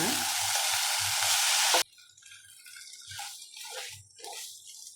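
Garlic Maggi noodles fry in a pan with a loud, hissing sizzle at first. The sizzle drops off sharply, leaving quieter intermittent scraping and stirring with soft wet splutters.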